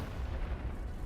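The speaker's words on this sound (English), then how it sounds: "Shoot the button to fire the cannon." Deep, rumbling boom of a cannon firing in the video game Lost in Random, a dense low-frequency roar sustained through the moment at moderate level with no talk.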